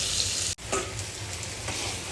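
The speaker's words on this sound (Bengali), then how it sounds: "পেঁপে দিয়ে দিয়েছি, দিয়ে আমি ভাজতে থাকছি।" Papaya and vegetables fry in a pan with a steady hiss and sizzle, a brief stir or break interrupting the crackle before it continues evenly, with no talking.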